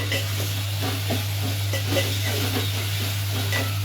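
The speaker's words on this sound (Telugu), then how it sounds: "అల్లం పేస్ట్ వేస్తున్నా ఫ్రెండ్స్. పచ్చివాసన పోయేదాకా మంచిగా ఫ్రై చేసుకోవాలి." Ginger paste frying in a pan, a steady close sizzle with soft rhythmic stirring over a low constant hum, no talk.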